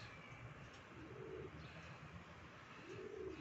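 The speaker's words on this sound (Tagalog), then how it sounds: "Ayan mga kalapatids." Pigeons give faint, low coos, two brief soft calls a couple of seconds apart against quiet background hiss.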